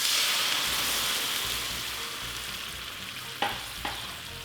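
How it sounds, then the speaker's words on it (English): Squash sautéing in a pan for Italian gemelli pasta gives off a steady, close hiss and crackle of sizzling, easing slightly as it goes, with two brief sharper bursts near the end. "hear the noise, the hissing and crinkling of the sauteing, and that's when I'm ready to go in with the wine"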